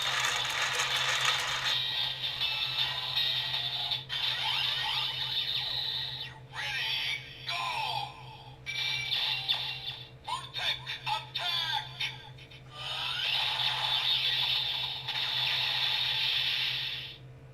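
A Kamen Rider Build Driver toy belt has its crank turned, giving ratcheting mechanical clicks and whirs that alternate with loud, steady electronic sound effects from the toy, with no voices.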